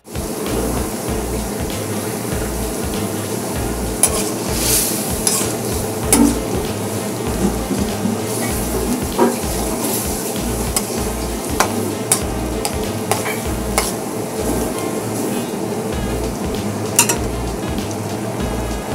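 Pot of asam pedas chicken stew bubbling on the stove while a utensil stirs it, a steady simmering hiss with rhythmic scraping strokes and occasional clinks against the pot, close and continuous, no talk.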